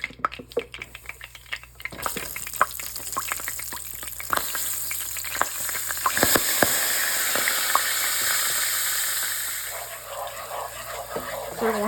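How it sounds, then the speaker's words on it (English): Cornmeal frying in boiling grease for gravy, a loud continuous sizzle and bubbling, with scattered crackles and pops and the scrape of stirring throughout. "the grease is starting to boil. And I'm going to add some of this cornmeal here."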